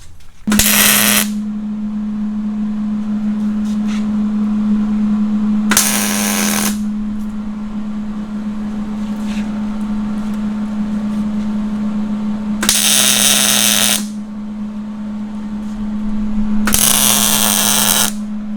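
Tack welding a washer onto a Dana 30 axle produces four loud, crackling bursts of a second or so each, close by, spaced apart over a steady low electrical hum, with no talking.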